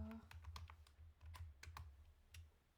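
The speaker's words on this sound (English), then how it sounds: "just start typing it." Rapid, irregular clicking of keys on a computer keyboard as someone types a network policy specification, close and steady throughout with a faint low hum underneath.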